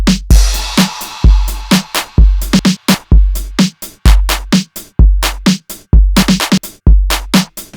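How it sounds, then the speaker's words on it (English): Electro pop drum pattern built from a flipped city pop sample: deep kick thumps and sharp snare and hat hits in a steady driving groove, with a crash cymbal washing over the opening bar, loud and dry. "my drums and my beats and my crash, they all sound like this"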